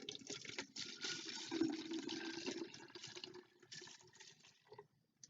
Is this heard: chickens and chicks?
no